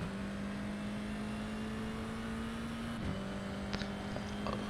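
A Formula car in the iRacing sim at Monza accelerates out of a corner, its engine giving a steady, even drone that dips briefly midway, then holds, with faint clicks near the end.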